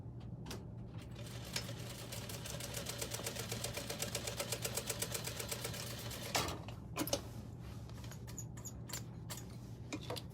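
A sewing machine stitches through a canvas tote bag in a fast, even needle rhythm lasting several seconds, followed by a few clicks and thread handling sounds.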